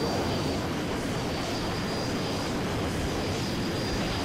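An Orca aircraft in the multiplayer game Renegade X flies with a continuous, loud engine roar and broadband rushing noise that holds steady throughout, with no voices present.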